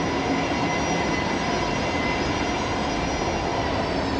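An airliner's engines roar in a steady, broad, continuous rumble as it takes off from runway 19 right at Brisbane Airport, loud and unchanging throughout with no talking.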